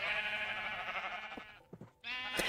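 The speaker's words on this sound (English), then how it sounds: "Did we just find 21 naturally spawned pink sheep?" Blocky Minecraft sheep bleat in a snowy game world, a couple of nasal, wavering calls standing alone against quiet background.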